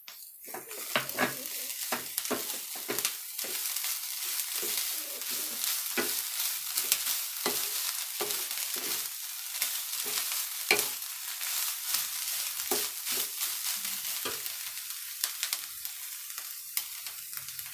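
Chopped vegetables with grated paneer sizzle in a pan as a stuffing for chila, with steady frying hiss and repeated close scraping stirs of a spoon against the pan.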